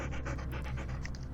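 Ghost dogs in the Nancy Drew mystery game pant in quick, steady rhythmic breaths, close and moderately loud, with no talking over them.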